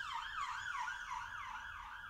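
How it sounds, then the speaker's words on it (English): A wailing emergency siren rises and falls in a steady repeating sweep, heard at a distance and moderately faint, alone with no voices. "that'll be alarm number 76 of the day"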